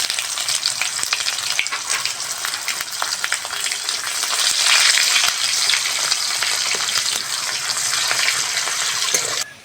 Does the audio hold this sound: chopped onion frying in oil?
yes